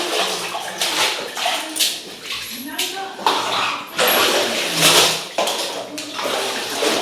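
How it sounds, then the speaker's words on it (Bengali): Clothes are hand-washed in water at home and then drained, with splashing, sloshing and water pouring in repeated surges, while a person talks over the sound. "রাত্রিবেলা এরকম জামা কাপড় ধুয়ে জল ঝরিয়ে দিলে সকালবেলা খুব সুবিধা হয়"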